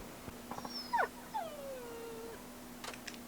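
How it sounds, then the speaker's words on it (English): A dog yelps in Yakuza 5, sharp rising and falling whimpering cries with a drawn-out whine trailing off, heard fairly faintly over a steady low hum. "What's that? A dog yelping?"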